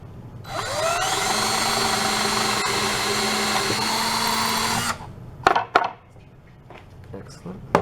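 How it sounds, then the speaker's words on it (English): A small power drill bores a 1/8 inch hole in a guitar's wood, whirring steadily for about four seconds, its pitch rising as it spins up, then stops, followed by a few clicks and knocks. "we're going to drill an 1/8 inch hole through the mark that was just made with the nail"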